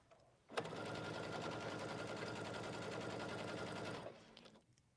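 A sewing machine runs a straight quarter-inch seam, a steady rapid mechanical whir of stitches lasting about three and a half seconds, close and loud, starting and stopping abruptly with no talking.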